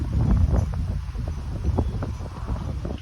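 Gusty wind blowing through swaying oak and pine trees, a steady rushing roar with low buffeting surges across the whole moment, with no voices.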